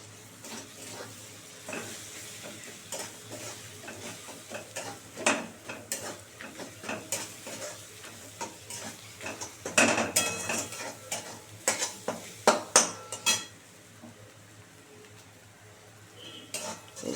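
Coriander and Kashmiri red chili fry in a pan with a low, steady sizzle, broken by irregular scraping and stirring clatters of a utensil against the pan, busiest in the middle.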